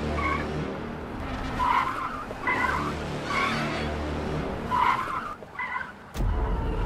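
A car skids with repeated short tire squeals over a steady engine hum, several chirping bursts spaced irregularly, then a sharp knock near the end.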